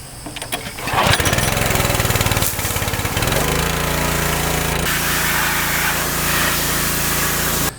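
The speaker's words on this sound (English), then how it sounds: "I'm gonna take the pressure washer, start cleaning everything" A pressure washer used to clean an S10 truck's engine bay starts up close by with sputtering bursts, then settles into a loud, steady mechanical drone that runs without a break.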